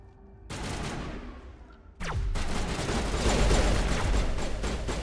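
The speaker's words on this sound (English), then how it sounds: "That's a sniper rifle." Gunfire from a video game sniper rifle, a sharp loud report followed by a dense, sustained burst of shooting and explosions rumbling together with no speech.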